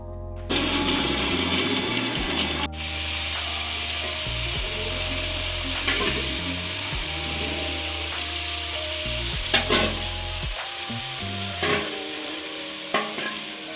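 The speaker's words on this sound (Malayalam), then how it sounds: "അപ്പോൾ ചേട്ടൻ ദാ ഇവിടെ ചിക്കൻ വറുത്തുകൊണ്ടിരിക്കുകയാണ്" Chicken sizzles and fries steadily in a pan for Kerala-style chicken mulakittathu, a dense crackling hiss running throughout with a few sharper pops and scrapes near the end, and no talking.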